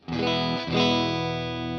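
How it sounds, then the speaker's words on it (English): Electric guitar played through a clean amp, two ringing chords that sustain and slowly fade, bright and close with no voices. "here's the clean amp."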